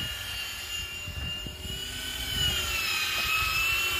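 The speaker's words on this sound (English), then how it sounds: "We got a Milwaukee drill" A cordless Milwaukee drill drives a small gearbox on an aircraft tug, turning a knurled wheel against the landing gear; a steady high motor whine runs continuously over low rumbling, moderately close.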